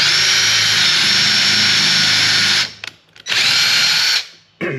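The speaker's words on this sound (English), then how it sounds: "so I'm gonna jump up a drill bit" A power drill bores out a seized bolt on a Mitsubishi Evo 8 engine during a rebuild, preparing it for an extractor; a loud, steady whine runs nearly three seconds, cuts out briefly, then resumes before stopping.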